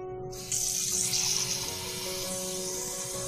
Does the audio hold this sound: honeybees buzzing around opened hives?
no